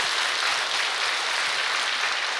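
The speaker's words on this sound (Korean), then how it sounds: "꼭 오라고 큰 박수 한번 치겠습니다" Audience applause at a Buddhist temple precepts ceremony at Masan's Jeongbeopsa, a steady dense wash of many hands clapping throughout, moderately loud with no talk over it.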